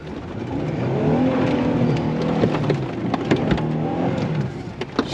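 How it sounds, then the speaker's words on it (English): A stuck Jeep's engine roars steadily in manual second gear as its tires spin, a loud sustained drone with rumbling, crackling bursts over about five seconds and no talking. "put it in manual mode, see if I can get these tires spinning a little bit"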